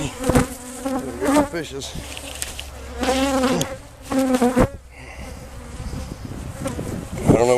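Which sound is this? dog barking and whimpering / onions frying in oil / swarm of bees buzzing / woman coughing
swarm of bees buzzing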